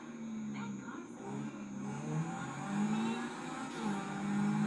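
Car engine in Grand Theft Auto V, a steady low idle hum that swells and rises slightly in pitch as if revving, continuous throughout at moderate loudness.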